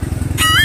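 A habal-habal motorcycle taxi engine chugs with a fast, even putter, then a rising whine swells as it passes close by, brief and loud.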